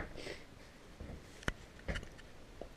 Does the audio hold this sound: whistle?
no